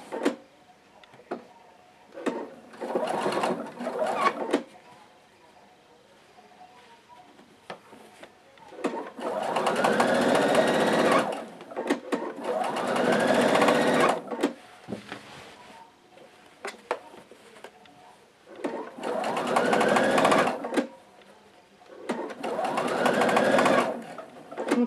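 A sewing machine stitches a bias binding seam in several separate runs, its motor whirring in steady bursts of a few seconds with quiet pauses between, close and moderately loud.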